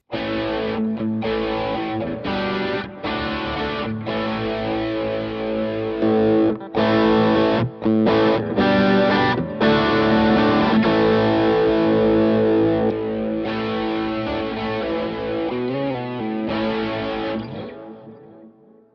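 Distorted electric guitar playing chords and riffs through overdrive, loud and sustained, with brief pauses between phrases before a final ringing fade.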